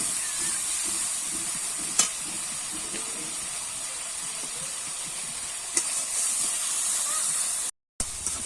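Spiced masala and chopped tomato fry in a pan for a Bengali prawn and fig curry, giving a steady faint sizzle and hiss with a couple of soft utensil taps, no talking.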